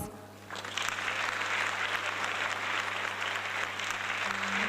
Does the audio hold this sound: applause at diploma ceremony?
yes